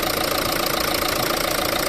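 A Renault Megane 3 with a healthy 1.5 dCi turbodiesel engine idling, a steady, loud, even diesel clatter with a continuous rhythmic knock and no voices.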